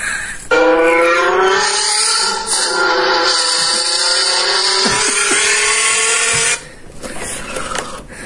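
A car engine imitated by rubbing or scraping a can, giving one sustained, slowly rising whine that holds for about six seconds before cutting off abruptly.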